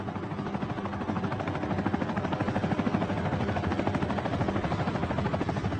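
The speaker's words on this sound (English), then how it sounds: "The small helicopter can barely lift her" A small helicopter's rotor chops steadily with a droning engine, close and loud, the beat holding constant as it strains to lift.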